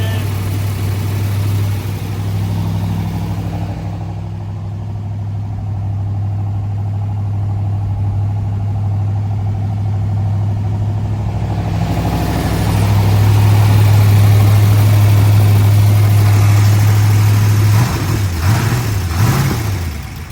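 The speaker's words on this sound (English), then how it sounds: "that's solid lifters. High idle's working." A 1965 Corvette L76 V8 with solid lifters runs on high idle after a cold start, a steady, loud, close rumble that swells louder partway through and wavers near the end.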